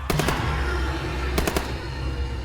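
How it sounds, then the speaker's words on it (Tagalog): Two bursts of rapid gunfire from several guns, an early cluster and a later one, loud and close over a dense background of snarling creature growls in a Filipino aswang horror audio drama, with no voices speaking. "ang tunog ng putok ng mga baril"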